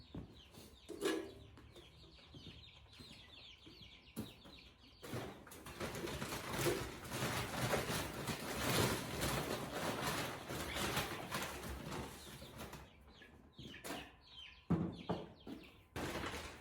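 Chickens cluck and coo softly at a distance on a farm, with occasional sharper calls over a steady rustling, shuffling background.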